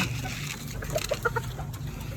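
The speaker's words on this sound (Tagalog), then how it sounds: "So ayun, papakain tayo sa mga manok." A few soft clucks from chickens sound over a quiet, steady background hum, brief and fairly faint.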